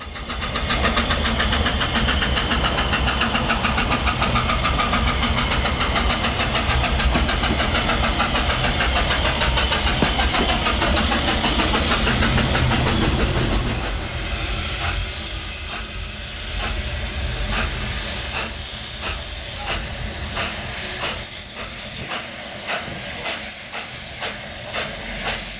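Narrow gauge steam locomotive Blanche arriving on a Welsh valley line, a loud sustained roar of hissing steam and engine noise that eases off, followed by rhythmic bursts of exhaust chuffs as it draws near.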